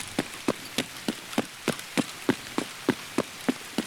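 Steady rain patters in the background of the video game Escape From Tarkov while evenly spaced thudding steps repeat quickly, several per second.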